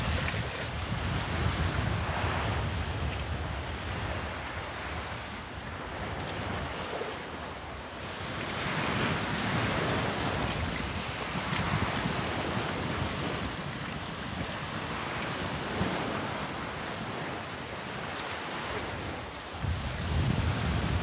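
Strong seaside wind in Cuba buffeting the microphone with a continuous roar, surf washing underneath, rising and easing in gusts.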